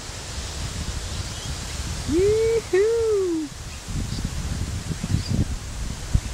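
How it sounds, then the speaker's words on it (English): Gusty wind in the aftermath of a downgraded cyclone buffets the microphone in uneven low rumbling surges, and a person lets out a long whooping cry partway through. "It's nice and windy today."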